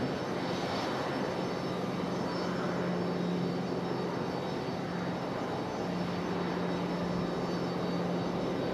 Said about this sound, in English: 757 creeping its way out here to the end of the runway.